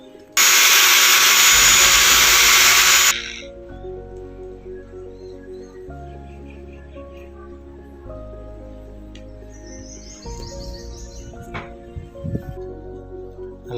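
A Black & Decker angle grinder fitted with a cutting wheel and handle gives a loud, harsh burst of noise for a few seconds after being switched on, then settles into a quieter, steady motor whine.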